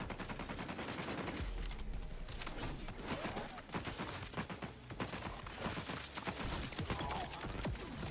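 Gunfire from a weapon in the video game Borderlands 4 that randomly changes between gun types such as pistol and sniper rifle. Dense bursts of rapid shots crackle continuously and loudly throughout.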